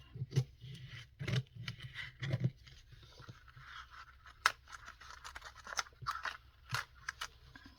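Scissors cut around paper in a craft studio, with several crisp snips and crunching slices in short bursts, then quieter scraping and handling sounds, close and alone without talk.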